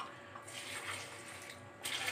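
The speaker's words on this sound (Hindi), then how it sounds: "और इसमें जाएगा थोड़ा सा वाटर" Water poured into a lemon mint slush mix of sugar, salt and lemon juice, a steady close splashing pour lasting about two seconds with no talk.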